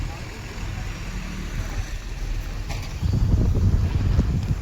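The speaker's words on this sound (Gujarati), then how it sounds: "પવન આવે છે, દરિયાકાંઠાનો પવન તો એમાં કાંઈ ઘટે જ નહીં" Coastal sea wind blowing at Hazira, heard as a steady low rumbling gust noise buffeting the microphone, growing stronger and louder over the last couple of seconds, with no talking.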